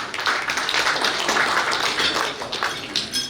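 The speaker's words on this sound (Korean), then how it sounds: "큰 박수 부탁드리겠습니다" An audience at a press anniversary ceremony applauds for announcer Kim Se-hyun, a soft, continuous wash of clapping that rises and falls across a few seconds.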